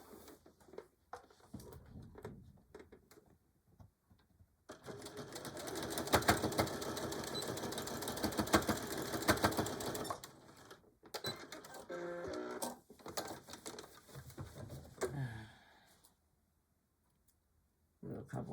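Sewing machine stitching the corners of a denim jean cell phone pouch, a steady mechanical whir in long runs broken by pauses and clicks, with a voice talking quietly in the gaps.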